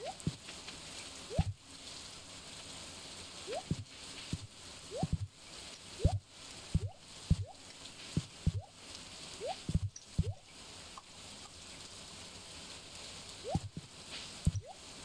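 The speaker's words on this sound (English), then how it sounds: "I'm in water now, it sounds like." A character wading through water in the Stardew Valley video game: soft irregular splashy squishes, one every second or so, fairly faint over a steady background ambience.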